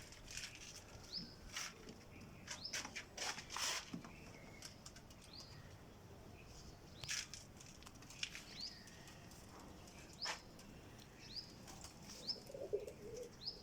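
Pigeons flutter and flap their wings in short bursts among soft coos and chirps, fairly quiet against a steady background hiss.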